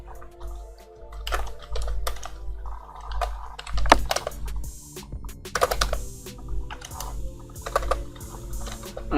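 Typing on a computer keyboard while entering a short text label for a channel logo design, with irregular bursts of clicking keys over a steady low hum, close and moderately loud with no talking.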